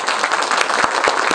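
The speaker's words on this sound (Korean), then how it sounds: "다시 한번 큰 박수로 맞아주시기 바랍니다" Applause from an audience at a Korean book launch event in a library, welcoming guests on stage; a steady, dense wash of clapping throughout, with a few sharper individual claps standing out.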